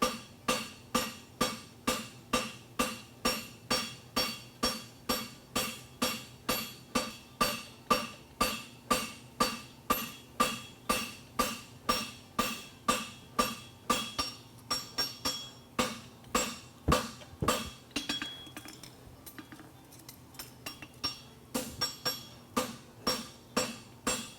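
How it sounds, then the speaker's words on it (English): A blacksmith's hammer strikes a horseshoe in a steady, even rhythm, dozens of ringing blows close by, with a short pause near the end before the pounding resumes. "I'm going to use the edge of the round of my hammer"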